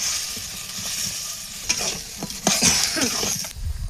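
Potatoes and tomato are tipped into a pan of sizzling spices and stirred, giving a close hiss of frying with scraping and clattering stir strokes, louder near the end, and no talking.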